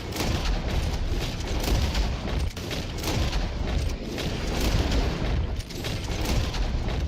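Dense, rapid gunfire from several weapons fills a Red Dead Online shootout, with sharp shots and booms overlapping steadily for the whole stretch and no talk over them.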